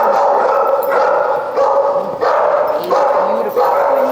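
A terrier barks loudly and close, repeating in a steady series of sharp, yelping barks about every half second, with a voice speaking faintly underneath at a seminar for unruly dogs.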